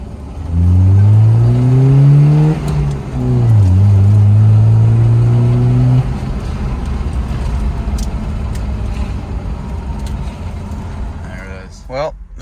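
A Mercedes-Benz 190E engine revs up close through first and second gear, climbing in pitch, dropping briefly at the gear change, climbing again, then easing off into a lower rumble.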